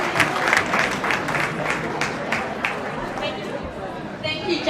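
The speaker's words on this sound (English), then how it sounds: "A huge round of applause for Jason tonight" Banquet audience at a reception hall claps in sustained applause, a dense steady patter of many hands with some chatter and crowd murmur mixed in throughout.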